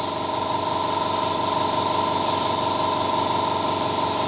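An Iwata HP.CS Eclipse airbrush sprays fine detail, driven by a Sparmax TC620X compressor with a 2.5 litre tank and 1/6 horsepower, giving a steady close hiss with a constant motor hum beneath it throughout.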